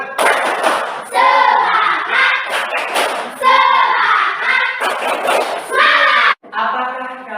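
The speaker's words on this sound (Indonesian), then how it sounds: "Tepuk semangat." Indonesian schoolchildren perform a tepuk semangat spirit clap, a rhythmic pattern of group claps mixed with loud chanted voices in bursts, close and lively in a classroom.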